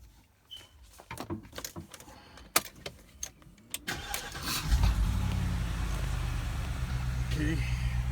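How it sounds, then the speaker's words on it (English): A 2006 BMW X5 4.4i with a very hard brake pedal cranks and fires up after some clicks and handling noises, then settles into a steady, close idle that continues to the end. "now we're gonna start the engine and see what happens"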